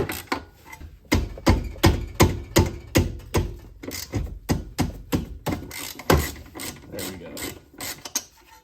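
A half-inch ratchet clicking as it breaks loose a brake bolt on a Honda Beat scooter, a rapid series of sharp close ratcheting clicks in bursts with brief pauses.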